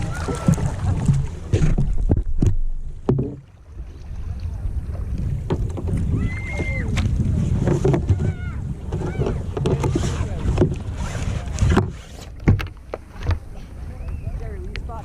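Kayak rolling over to starboard on open water, with splashing, sloshing and wind buffeting the microphone; a loud burst of water and hull movement, plus faint voices at times.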